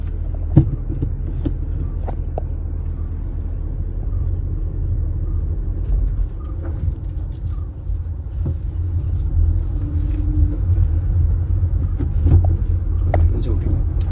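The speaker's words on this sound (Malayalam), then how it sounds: "ഇനി നമുക്ക് അങ്ങോട്ടേക്ക് തന്നെ ഓടിക്കാം, ഫസ്റ്റിലേക്ക് ഇട്ടിട്ട്" A learner car pulls away in first gear during a driving lesson, its engine a steady low rumble throughout with faint clicks and knocks from the cabin.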